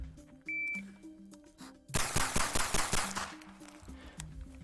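An MP5K submachine gun fires a rapid string of about a dozen close, loud shots in a quick rhythmic burst, preceded by quieter background noise and a brief beep.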